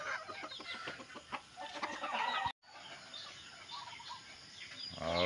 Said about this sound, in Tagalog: yan ang mga manok ko